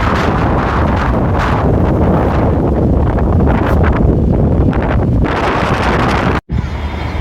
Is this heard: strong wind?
yes